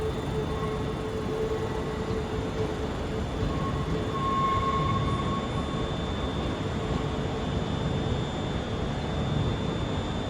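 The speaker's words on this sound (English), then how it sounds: "Departing out now is the 1019 Scotrail service, starting here at Glasgow Central, going to Lanark" A ScotRail Class 385 electric train pulls out of Glasgow Central station bound for Lanark, a steady rumbling roll with a faint whine and a brief squeal, holding at an even level under the station's hum.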